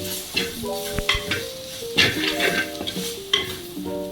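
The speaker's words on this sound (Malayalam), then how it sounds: "അരപ്പ് നന്നായി മൂത്ത് നല്ല മണം വരുന്നിടം വരെ ഇളക്കി കൊടുക്കാം" Kerala-style chicken perattu masala paste with chopped tomatoes frying in a pan, with close scraping stirs and a steady sizzle. Sharper clinks of the utensil against the pan sound over what seems to be light background music.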